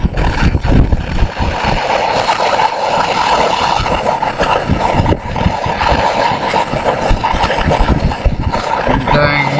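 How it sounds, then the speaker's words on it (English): Strong outdoor wind roars steadily and loudly across a microphone beside a torch heating a piece of magnesium, with buffeting gusts throughout and no clear voices. "These dang winds are blowing."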